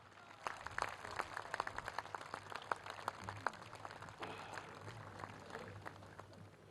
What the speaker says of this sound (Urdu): ان کے لیے بھرپور تالیاں خواتین و حضرات